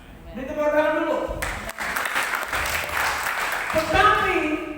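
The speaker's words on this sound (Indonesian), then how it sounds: "Beri tepuk tangan dulu." Church congregation at a Sunday worship service breaks into applause, a few seconds of crowd clapping between stretches of a pastor's amplified speech.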